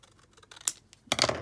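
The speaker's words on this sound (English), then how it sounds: "Now I'm just going to cut that." Scissors snip paper for a homemade Christmas gift bag, giving a few short, close, crisp cuts in two quick bursts with quiet pauses between.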